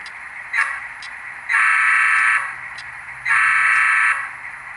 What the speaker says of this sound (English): This is just the normal horn.